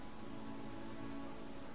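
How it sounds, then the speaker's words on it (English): Steady rain falls across an in-game area of Divinity: Original Sin, a dense, even hiss of drops on surfaces that holds constant throughout with no voices. "I wonder why it's always raining on this side."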